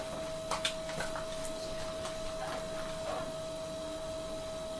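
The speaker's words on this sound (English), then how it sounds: "adjust these transformers until the 1 kHz or roundabout-ish tone is at its loudest" Steady test tone of roughly 1 kHz from a homebrew superhet AM radio, a faint continuous whistle sitting under hiss, crackle and small clicks throughout.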